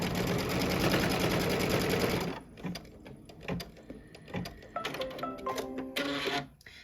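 A sewing machine stitches across fabric for quilted Kimberbell coasters, first a fast steady whirring run, then short bursts of stitching with clicks and pauses, close by and alone.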